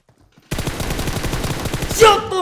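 Rapid automatic gunfire from the mobile battle royale game PUBG Mobile in a winter snow map, a loud continuous burst of shots that starts abruptly and ends with a brief game tone.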